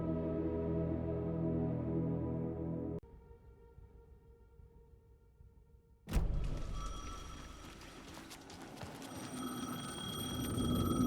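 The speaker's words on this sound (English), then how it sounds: "The payphone was ringing." A payphone rings in the Alan Wake II video game, a tonal electronic ring that stops, leaving a quieter hum, before a loud burst of dense ambient noise takes over, with no voices.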